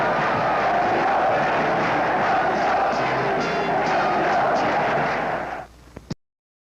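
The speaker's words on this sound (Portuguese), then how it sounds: "Com o fim do jogo, começou a grande festa da torcida tricolor." São Paulo supporters roar in a dense, sustained crowd celebration after the 1980 Paulista championship final, loud and continuous for several seconds before it cuts off abruptly.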